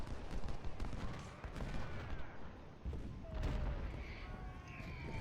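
Musket volleys fire continuously in the Ultimate General: Civil War video game, a dense, rumbling crackle of massed gunfire with heavier booms mixed in. It stays loud throughout the whole stretch.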